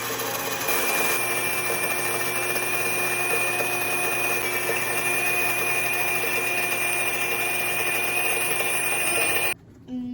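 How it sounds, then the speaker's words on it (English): An electric grain mill grinds wheat for bread with a loud, steady whine and rumble close by, running continuously before cutting off abruptly near the end. "So I set the grinder for a little bit finer than bread."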